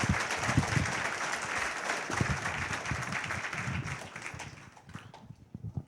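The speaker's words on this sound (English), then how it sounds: "a very loud round of applause to a very powerful man" Loud, sustained audience applause for a speaker at the Xcon 2004 conference, dense clapping filling the room for several seconds before thinning out toward the end.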